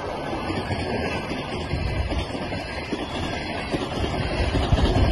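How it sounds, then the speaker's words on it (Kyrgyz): A train passes by with a dense, steady rumble and rattling roar that holds loud and close for several seconds, with no one talking. "Поезд едет,"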